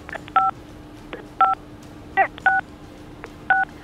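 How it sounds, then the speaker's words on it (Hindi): Phone keypad buttons are pressed during a call, giving five short, clear DTMF beeps in an uneven rhythm, each a brief steady dual tone over a faint line hum, with no talking. "आपके फोन के बटन प्रेस हो रहे हैं"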